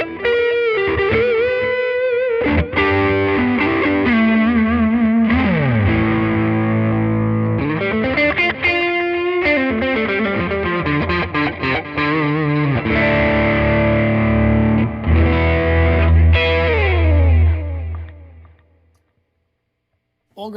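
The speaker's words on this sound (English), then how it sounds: "Without the tube screamer, it's, you know, maybe a little bit more bluesy sounding." An electric guitar played through a Tyler Amps 20-20 amplifier with no tube screamer in the chain, a bluesy, lightly driven tone. Sustained chords and single-note lines ring loud and continuous for about seventeen seconds, then fade to silence.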